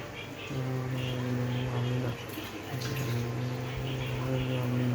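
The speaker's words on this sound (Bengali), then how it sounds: "আর একটু জল দিয়ে দেবো।" Water pours into a pot of cooking khichuri in a home kitchen, a soft steady splashing stream heard close, with a tonal hum running beneath it.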